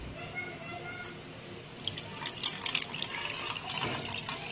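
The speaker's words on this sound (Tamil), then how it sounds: "இந்த மாதிரி நல்லா தேங்காயை பிழிஞ்சு அதுல இருந்து தேங்காய் பால் எடுத்துக்கணும்" Grated coconut squeezed by hand to wring out coconut milk, giving wet splashing and trickling of liquid that grows busier midway, with a voice present in the background.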